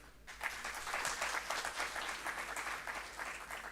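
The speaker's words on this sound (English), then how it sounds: "please join her as she comes on stage with a round of applause" An audience at a national agroecology symposium breaks into sustained applause as the chairperson walks on stage, a dense steady wash of clapping after a brief quiet start, lasting throughout.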